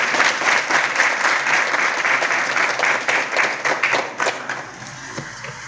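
An audience listening to a spoken religious discourse claps together in a long, lively burst that gradually thins and fades toward the end.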